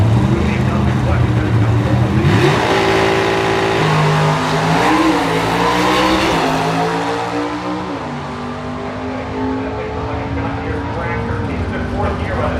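A nostalgia drag race car at the NHRA Nostalgia Nationals, fitted with a heavy flywheel, revs loudly and then slowly winds down, its engine tone sliding in pitch while a voice talks over it.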